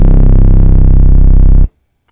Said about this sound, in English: and I end up with a bass that sounds kind of like this